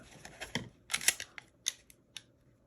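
The slide of a Canik METE MC9L pistol with a new, stiff recoil spring is racked by hand, making a short series of sharp metallic clicks and clacks of varying loudness, close and alone.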